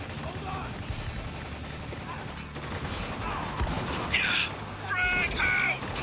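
A chaotic firefight in Spec Ops: The Line: sustained volleys of rifle fire crackle steadily, with harsher bursts and ringing impacts rising toward the end, while voices shout beneath the shooting.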